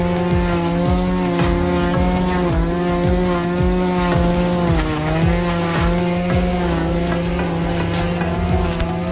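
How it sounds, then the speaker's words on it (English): A gas string trimmer runs steadily as it cuts through a garden bed, its loud, continuous, droning motor whine close by and rising and falling slightly as it sweeps back and forth. "Watch this steady-handed gardener expertly weed-whack a garden bed with precision."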